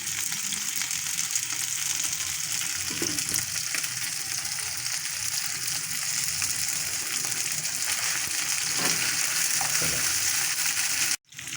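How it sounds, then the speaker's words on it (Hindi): Chicken pieces frying in a pan for teriyaki, giving a steady, dense crackling sizzle that stays loud and even throughout, with a couple of soft stirring knocks and a brief dropout right at the end. "ये चिकन जब तक फ्राई हो रही है"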